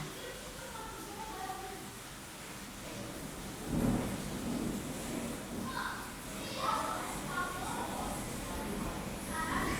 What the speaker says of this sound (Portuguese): tá uma chuva aqui horrorosa